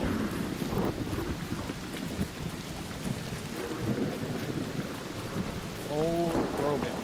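A thunderstorm with a continuous hiss of rain and low rumbles of thunder, steady and moderately loud, while a person speaks faintly in the background.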